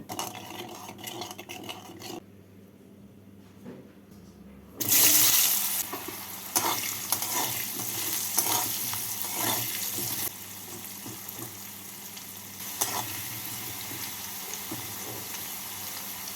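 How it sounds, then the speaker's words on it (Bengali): Potatoes frying in hot oil seasoned with salt and turmeric, a loud sizzle bursting in after a quiet start and then crackling steadily with stirring clatter and a faint background hum. "এর মধ্যে প্রথমে আলুগুলোকে ভেজে তুলে নেব"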